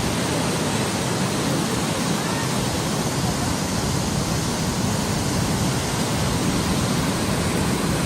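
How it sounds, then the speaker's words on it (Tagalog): Shifen Waterfall in Taiwan roars loud and close as a dense, unbroken wash of falling water that holds steady throughout. "Tingnan natin kung anong itsura ni Chifen Waterfall."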